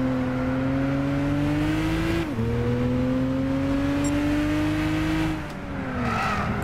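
A race car engine in the Gran Turismo 6 video game, heard close and loud as a steady high whine that rises while accelerating, then drops briefly at two gear shifts before climbing again, with no talking.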